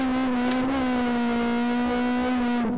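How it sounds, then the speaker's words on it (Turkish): A Honda S2000 drifting in the racing game Live for Speed, set in an industrial area, its engine holding a steady high-revving drone with a slight dip and rise near the start and a brief change at the end. "Bak şimdi eski oyunda da nasıl drift yapılır"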